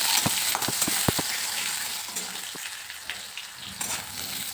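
Cut, washed potatoes fry in a pan with a constant hissing sizzle, and a few brief clicks and taps of stirring near the start.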